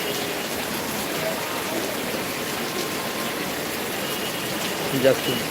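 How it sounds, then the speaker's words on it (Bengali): Steady heavy evening rain hisses evenly throughout in Dakshin Dinajpur, a dense wash of falling water with a faint voice briefly near the end. "দেখো বৃষ্টি দেখো ভাই"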